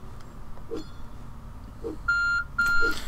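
A timer beeping in the game My Time At Portia, with a few steady electronic tones near the end over a low background and faint soft thumps.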